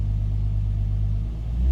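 Warm Infiniti G35 engine idling at about 1,000 RPM with a P0174 fault code, giving a low, even, close rumble that holds steady for the whole moment.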